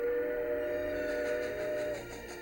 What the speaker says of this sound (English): Somewhere, a child hears the sound of a train.